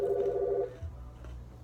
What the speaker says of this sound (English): The phone's actually ringing.